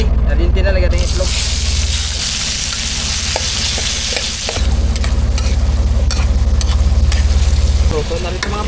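Egg frying in a hot pan gives a loud, steady sizzle with scraping stir noises throughout and a brief dip midway, while people talk over it.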